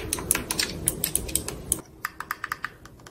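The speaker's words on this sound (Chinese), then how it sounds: "先来简单听一下按键的声音" Buttons on a Razer Raiju Ultimate PS4 controller pressed in quick succession: crisp, close plastic clicks in a rapid, uneven burst, then a sparser run of single clicks.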